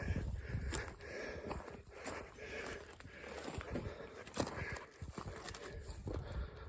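Hooves clop unevenly on hard ground as a horse walks close by, with scuffs and rustles but no clear whinny.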